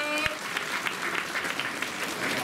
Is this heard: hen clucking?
no